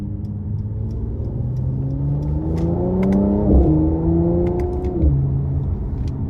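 A 2023 Mercedes-Benz C43 AMG coupe with a 3.0-litre twin-turbo engine accelerates hard, its engine note climbing in rising sweeps and dropping sharply at quick gear shifts, heard steadily from inside the car.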